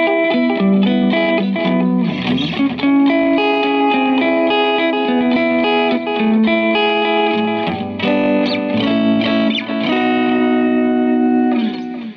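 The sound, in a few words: Catalinbread Belle Epoch pedal echo delay effect on guitar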